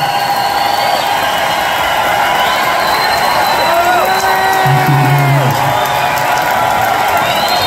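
A large outdoor festival crowd at a bluegrass concert in an amphitheater cheers, whoops and applauds steadily, a loud dense roar that holds throughout without any talk.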